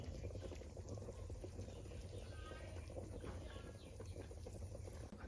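A pot of spicy Thai pork back-bone stew bubbles at a steady, gentle boil. The low burbling is close and continuous, with no talk over it.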